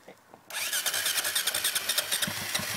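A motorcycle engine catches after a moment of quiet, then settles into a close, loud, pulsing idle.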